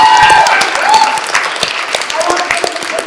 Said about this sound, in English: So give a round of applause for the family.